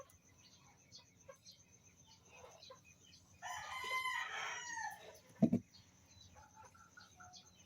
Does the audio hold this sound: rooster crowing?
yes